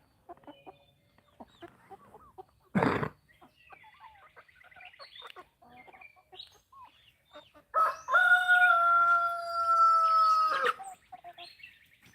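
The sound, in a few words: Brahma roosters crowing and clucking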